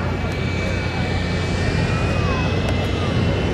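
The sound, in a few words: Geico Sky Typhoon aircraft flying over an air show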